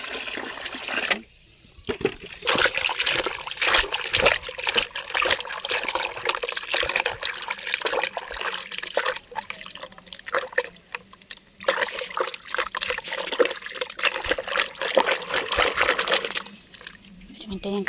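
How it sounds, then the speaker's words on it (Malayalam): Food items are rinsed under running water in a home kitchen, a steady splashing trickle that continues for the full length with brief pauses, close and fairly loud, while someone talks over it. "അപ്പോൾ വേഗം കഴുകാം കേട്ടോ."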